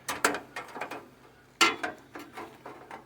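Blade on a Wood-Mizer LX-25 sawmill being pulled forward by hand, giving a quick series of close, light metallic clicks and ratcheting rattles in two short bursts.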